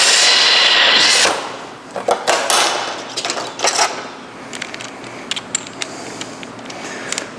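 Screws are driven into a plastic door panel: a short burst of loud power-tool whir, followed by a scatter of sharp clicks and knocks of varying strength with quiet gaps between them.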